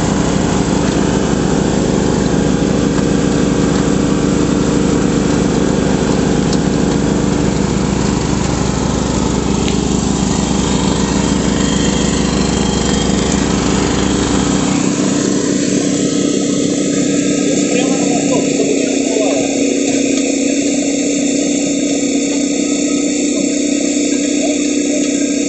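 A generator runs loud and close during water well drilling, a continuous buzzing engine drone that holds steady throughout, its low rumble easing and tone shifting about midway.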